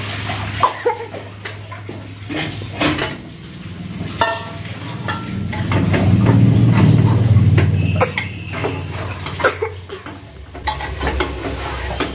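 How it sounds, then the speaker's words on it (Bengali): Chunks of potato go into a pot of mutton curry and are stirred, bringing loud scraping and clattering strokes over a continuous frying sizzle that swells midway, all close by. "এবার আমি এর মধ্যে এই আলুটা দেব, দিয়ে 2-1 মিনিট নেড়ে নেব"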